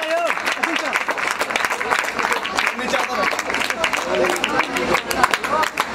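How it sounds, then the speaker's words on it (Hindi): Loud, crackling applause fills a prize presentation at a village cricket cup in Pokhrauni, a dense patter of clapping hands with voices talking over it. "जोरदार ताली हो के चाहिए।"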